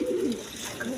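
A pigeon coos once, a soft low throaty call lasting about a second, close but fairly quiet.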